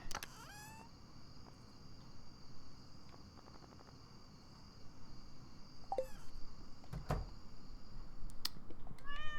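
Cat meowing in a farming video game, a few short high meows spread across the clip amid quiet background noise, faint clicks and a steady faint high tone.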